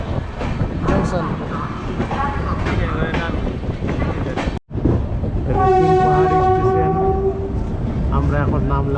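A train pulls into New Farakka Junction, a loud, close rumble with a sustained horn tone sounding in the second half; people talk throughout over the station noise.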